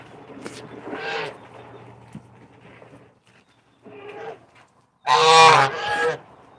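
Geese in a backyard flock honk and squawk in short loud bursts, with a burst near the start and a louder, harsher burst near the end.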